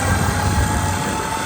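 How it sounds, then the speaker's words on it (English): Steady, loud mechanical whir of a Smittybilt winch spooling its cable back in, with a low rumbling drone and a constant hum throughout, mounted on a vehicle beside a Tacoma. "spool it in. Keep an eye on if the rope doesn't get caught."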